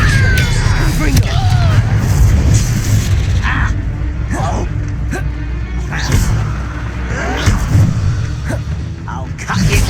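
Confringo blasting-curse explosions in the video game Hogwarts Legacy: repeated booming blasts and crashes over rumbling game ambience, loud and close, mixed with spell effects and a character's voice.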